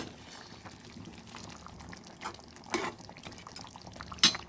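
Hot water is poured into a pot of simmering desi chicken curry with potatoes, a faint liquid trickle under low bubbling with two brief louder splashes.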